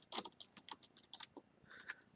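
Quiet, close tapping of keys on a computer keyboard, a quick irregular run of light clicks followed by a short pause and a few more presses.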